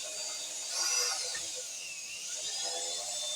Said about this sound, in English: I'm just going to real slowly start my hole here.